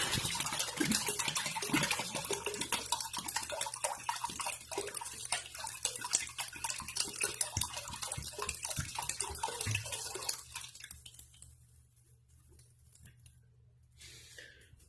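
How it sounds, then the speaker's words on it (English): Dirty water pours and splashes steadily out of a container for about ten seconds, then trails off into faint drips. "So first I'm going to empty this out."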